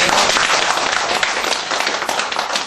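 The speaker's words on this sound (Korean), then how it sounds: "박수 한 번 쳐주실래요?" Audience applause at a fund donation ceremony for a senior citizens' band, many hands clapping in a thick, continuous burst, loud and close without pauses.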